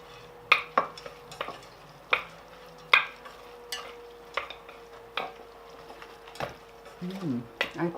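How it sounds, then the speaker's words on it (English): Soba noodles being tossed and stirred with a balsamic vinegar and wasabi dressing, giving repeated soft clicks and wet scraping from a utensil against a bowl, close up, with a steady background hum. "I'm mixing with this dressing."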